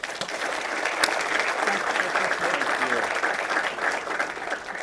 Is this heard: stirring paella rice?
no